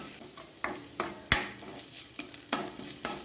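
Ginger and green chilli tempering stirred over a low flame, soft sizzling under a handful of quick scraping strokes of a spoon in the pan, close and fairly quiet, without speech.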